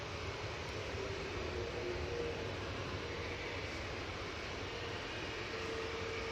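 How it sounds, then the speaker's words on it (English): An EasyJet Airbus A320neo moving onto the runway at Manchester Airport gives off a steady, distant engine drone, low and even with a faint whine riding over it. "the EasyJet that's been holding at Victor Delta is now entering the runway"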